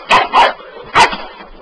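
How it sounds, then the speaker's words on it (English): A dog barking at a floor sweeper: three sharp, close barks, two in quick succession and then one more after a short pause. "First time I've really seen him bark."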